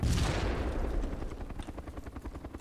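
Loud gunfire and grenade explosions in the video game DayZ Overpoch, an opening boom followed by rapid bursts of shots in a dense, chaotic battle mix.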